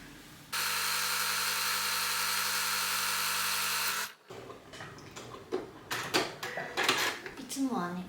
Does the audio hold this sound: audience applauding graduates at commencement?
no